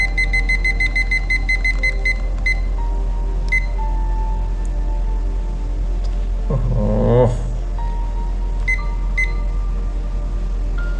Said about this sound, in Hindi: अब 15 सेकंड पे बजेगा ये अलार्म